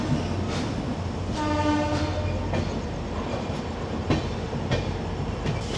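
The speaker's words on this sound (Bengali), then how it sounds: "এখন ট্রেনটা পুরো পাঁক নিচ্ছে।" The 18048 Amaravati Express, an electric-hauled train on the Goa to Kolkata route, rolls on the rails with steady rumble and rhythmic clickety-clack, a horn sounding briefly near the start.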